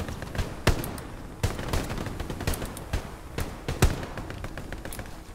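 Gunfire in Hell Let Loose, a World War II shooter: bursts of rifle and machine-gun fire crack at uneven intervals, some shots close and sharp, others farther off, over a constant battlefield rumble with no voices.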